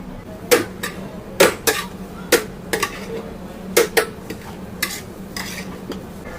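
Large batch of prawn fried rice with water spinach tossed in a big wok: repeated sharp metallic scrapes and clanks of a spatula against the wok over a steady background sizzle, irregular strokes close by, no speech.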